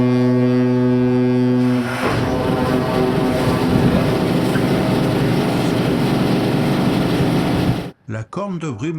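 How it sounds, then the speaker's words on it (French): Deep foghorn of the Hurtigruten coastal ship Richard With arriving at port in Norway, one long loud blast followed by ship engine rumble and wind, then a brief crackle of microphone noise at the end. "La corne de brume annonce notre arrivée"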